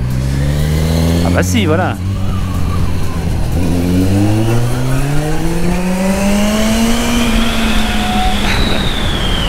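A Zero FXE electric motorcycle accelerates hard with a loud, rising electric whine that climbs steadily in pitch over several seconds, and someone speaks briefly near the start.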